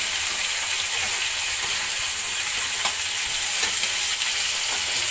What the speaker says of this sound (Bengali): চিকেনটাও তোমাদের দাদা রান্না করছে